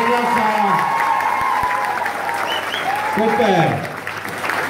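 An audience applauds at a school ball: sustained clapping and crowd noise, with a loud voice speaking over it and enthusiastic calls mixed in.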